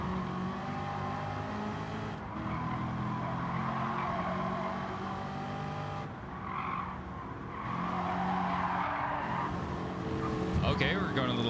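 A race car in Gran Turismo 7 runs off the track onto grass. The engine drones steadily with tyre skid and scrub noise, and someone talks over it throughout.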